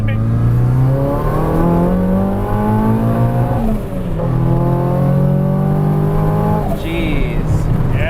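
A 1970 Datsun 240Z with a swapped SR20DET turbo engine and Haltech management revs hard at full throttle, its pitch climbing in repeated sweeping pulls close by, with a brief whooshing release near the end.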